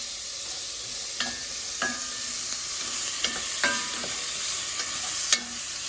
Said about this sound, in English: 1/2 of a diced onion. Get that stirred around in the pot.